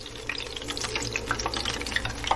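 Hot grease sizzles in a pan being readied for frying sea bass, a steady crackling hiss with scattered pops, close and continuous, with no talk over it.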